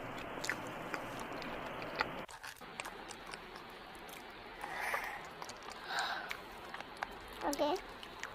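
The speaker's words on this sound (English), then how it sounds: "Now also she is crunching and crunching." A child crunches and chews the last bites of chocolate cake at a table, with steady close mouth noises and soft bites that a quiet voice partly overlaps.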